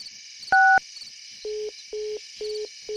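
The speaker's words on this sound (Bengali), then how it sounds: "প্রথমে চামেলিকেই ফোন করি।" A brief phone keypad tone sounds, then four evenly spaced dialing beeps follow in a steady rhythm over faint background hiss.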